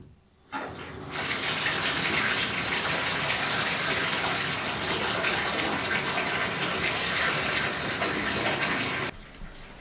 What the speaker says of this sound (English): let's turn the tub on and have a bath.